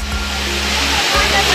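Seljalandsfoss, a 60-metre waterfall in Iceland, a steady broadband roar of falling water and spray heard close up, constant and loud with a low rumble underneath.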